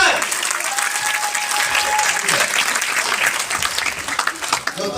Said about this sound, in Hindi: सर एक बार जोरदार तालियां